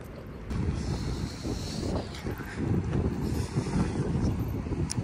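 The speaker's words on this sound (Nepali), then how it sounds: "ओ हावा चलेको" Wind buffets a microphone outdoors beside the BAPS Hindu temple in Abu Dhabi, a steady, loud low rumble with gusty swells that lasts the whole time, with no voices.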